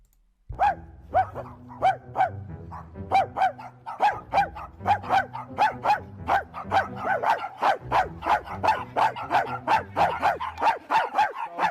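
A person imitates a dog, letting out a long string of rapid, rhythmic barks close up and loud, barely pausing between them.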